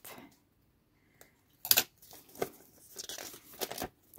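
Folded paper being cut for a handmade envelope journal, a few crisp snips and rustles spaced out over quiet, close and moderately loud.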